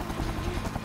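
A steady, low rotor-and-engine drone, like a helicopter heard from inside the cabin, continuous and fairly loud with no talking.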